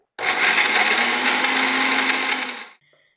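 A mixer grinder grinding makhana and dates whirs loudly and steadily for a couple of seconds, then winds down and stops.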